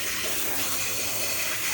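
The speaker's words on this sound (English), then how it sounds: "I am gonna do a vertical rinse out on her." Cool water from a salon sink sprayer runs steadily through hair during a vertical rinse-out after root colouring, a close, continuous hissing gush with no talk.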